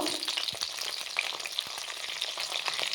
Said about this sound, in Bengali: অল্প হলুদ দেব ভালো করে ভেজে নেব